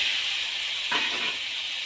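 Fried potatoes and pointed gourd are dropped into spice masala in a pan, giving a short sizzling burst over a steady background hiss.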